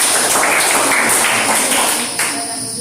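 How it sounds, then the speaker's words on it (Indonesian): Students in a classroom clapping together in a brief, dense burst of applause that fades toward the end, with voices mixed in. "mari kita tepuk tangan"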